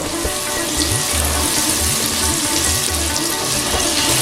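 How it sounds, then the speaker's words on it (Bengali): Ridge gourd slices frying in a pan of oil, a steady close sizzle with a watery crackle running throughout and no talking. "এই উল্টো পিঠটা, যেদিকটা শাঁস সেদিকটা একটু ভেজে নিচ্ছি"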